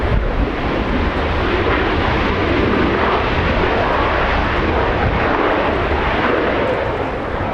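An arriving airliner passes at Los Angeles International Airport, a loud, steady jet roar filling the whole stretch without a break, sounding close and even throughout.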